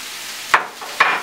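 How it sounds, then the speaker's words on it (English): Garlic and onions sautéing in a hot pan, heard as two short sharp clatters of a utensil scraping the pan over a low, steady sizzle, with no talking. "Next I'm going to add in some garlic. This is about a tablespoon of garlic."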